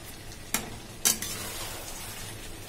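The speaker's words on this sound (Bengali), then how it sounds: "ভালো করে 2 মিনিট মতো নাড়িয়ে নেবো" Pumpkin and potato curry (kumro aloo chokka) with garam masala is stirred in a pan. A soft, steady sizzle runs throughout, broken by two sharp scrapes or clicks of the utensil in quick succession, close and quiet, with no talking.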